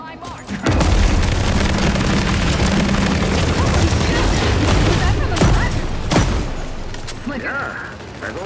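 Ship weapons firing in the video game The Expanse: Osiris Reborn, a dense continuous roar of booms and mechanical rumbling that swells after a brief quiet start, with sharp cracks near the end, loud and close, with a voice speaking underneath.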